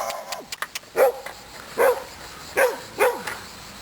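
A dog barks four times in short, sharp bursts at a moderate distance, with brief pauses between each bark and a few faint clicks early on.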